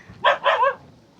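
A dog barks twice in a village in Tamil Nadu, close by and loud against a quiet rural background, the short sharp yaps following one another quickly.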